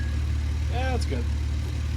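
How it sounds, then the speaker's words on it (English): A skid steer engine idles with a steady low rumble throughout, while a brief voice sounds over it. "Skid steer finally started, finally got it in here"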